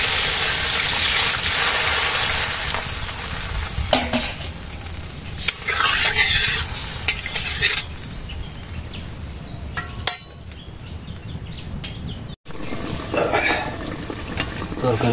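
Curry simmers and bubbles in a pot after broth is added, with a continuous frying hiss broken by scattered scrapes and clinks of a spoon stirring, plus faint voices in the background.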